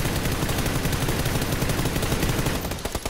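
Sustained rapid automatic gunfire in a multiplayer shooter video game, aimed at a jeep, a loud continuous rattle of close shots that thins into scattered single reports near the end, no talk over it.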